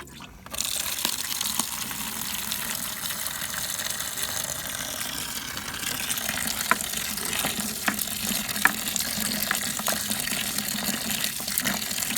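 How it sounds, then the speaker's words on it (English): Water gushes steadily from a hose or tap into a bucket of black walnuts outdoors, a loud continuous splashing fill with small knocks and no talk. "let's get some water in here."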